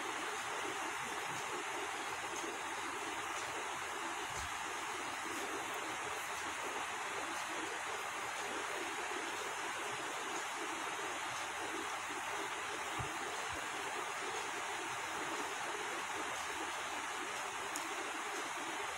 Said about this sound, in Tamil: இப்போ பூண்டு பச்சை மிளகாய் கறிவேப்பிலை இத சேர்த்து ஒரு 5 நிமிஷம் அளவு நல்லா வதக்கி விடலாம்